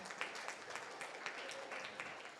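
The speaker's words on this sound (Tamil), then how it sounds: "குழந்தைகளுக்கு கைத்தட்டி உற்சாகப்படுத்தி வரவேற்போம்" An audience applauds children at a Tamil book-review gathering, a faint but steady patter of many hands clapping together, heard from a distance throughout.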